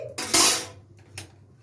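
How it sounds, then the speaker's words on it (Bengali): A metal kadai set down on a stove gives a loud clattering clank followed by a fainter second knock of metal cookware, short and close. "কড়াইটা বসিয়ে দিয়েছি"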